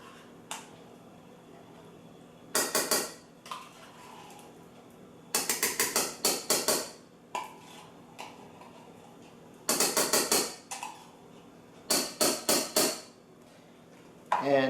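Utensils clink and scrape against a gumbo pot as tomato paste is added, with repeated rapid bursts of metallic tapping and scraping separated by short pauses, heard close by and without speech.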